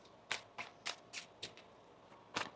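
Tarot cards being shuffled by hand, a run of six or seven crisp riffling bursts in a fairly steady rhythm, close and clear with no talking.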